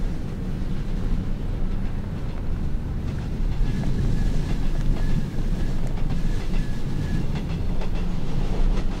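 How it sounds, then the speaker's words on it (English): A train rumbles past continuously in the video game Chernobyl Commando, loud and close, with heavy low-end roar, rhythmic rail clatter and a faint thin whine riding above, steady for the whole stretch with no talking. "Got to get ahead of this train."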